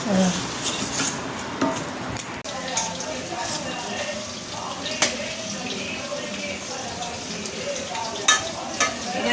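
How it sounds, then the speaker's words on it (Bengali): Pieces of chicken sizzling and frying in a pan for chilli chicken, a steady close crackle with scattered clinks of a utensil stirring against the pan. "চিকেনটা ভাজছি"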